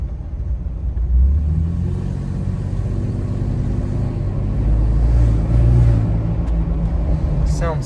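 Ford Bronco Raptor engine idling with its exhaust in quiet mode after a downpipe and intercooler install, a steady low rumble with slight swells, close by, while a person talks over it.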